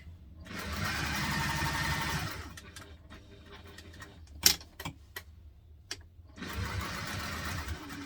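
A sewing machine runs in two sustained, fairly quiet bursts of rapid mechanical chatter, back stitching webbing on a teddy backpack, with scattered clicks and handling taps in the quiet middle gap.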